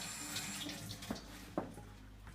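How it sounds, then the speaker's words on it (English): Tap water runs steadily over small cubes of peeled potato-like tissue being rinsed at a kitchen sink, a continuous splashing wash with a few brief louder spatters, close by and with no talking. "I'm going to just rinse it off in water."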